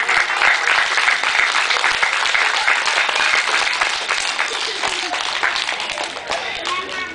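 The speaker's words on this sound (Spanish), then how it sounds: "el aplauso es para todos ellos" Audience applause at a kindergarten ceremony marking a new bathroom, a dense sustained clatter of many hands clapping close by, steady for several seconds and fading slightly toward the end, with a voice speaking over it.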